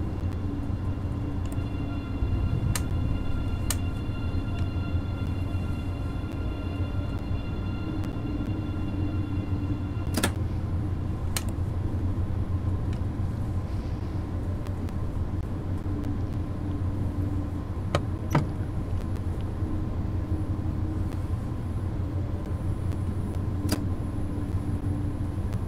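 An ICE 3 high-speed train accelerating in the Train Sim World 2 simulator on the Aachen–Cologne line, a steady low rumble with a sustained motor whine and occasional sharp clicks.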